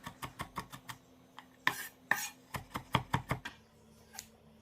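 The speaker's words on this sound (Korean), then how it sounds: "마늘 한 큰술 다져주겠습니다." Garlic minced with a knife on a cutting board: a quick, uneven series of sharp, close chopping taps, pausing briefly and resuming, with no voices.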